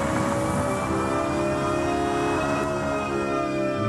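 Nissan Canto pedestrian warning sound for electric cars, shown at the Tokyo Motor Show: a steady, swelling synthetic tone with layered rising harmonics, like a sci-fi hum, continuous and even in loudness with no talk.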